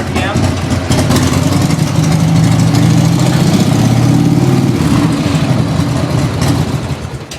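A Harley motorcycle engine with a failing charging system runs steadily as it is held at about 2,000 RPM, a loud, continuous low rumble that swells slightly in the middle and eases off toward the end.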